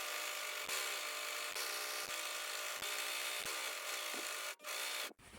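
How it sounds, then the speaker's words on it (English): An overlocker serges the raw edge of a cut-down t-shirt in a continuous loud, buzzing machine drone that runs almost without a break, with a few brief dips and a stop near the end. "we're going to cut most of this off and just overlock the raw edge"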